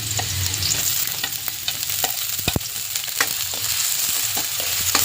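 Onion and garlic sauté in a hot pan, giving a loud, steady sizzle with occasional sharp scraping knocks from stirring, no voices.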